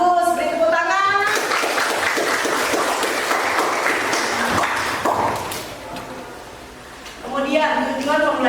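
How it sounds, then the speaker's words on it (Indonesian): Classroom applause from a group of students, a dense broadband wash of clapping lasting several seconds, with a teacher's voice speaking before and after it. "Bagus, beri tepuk tangan."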